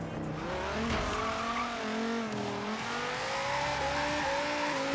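A car in Forza Horizon 3 accelerates hard out of a corner at full throttle, its engine note rising and shifting steadily with some tire squeal, loud and continuous without speech.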